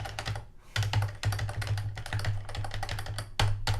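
Fast, steady typing on a computer keyboard, a dense run of close, crisp key clicks with a few heavier thumps of larger keys, heard alone without speech.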